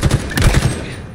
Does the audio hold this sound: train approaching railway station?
no